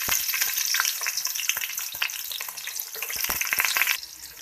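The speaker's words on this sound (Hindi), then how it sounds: "अभी प्याज फ्राई हो रही है।" Thinly sliced onion fries in oil with whole garam masala spices, giving a dense, bright hiss and crackle close up, with scattered spoon clinks and scrapes of stirring throughout and no voices.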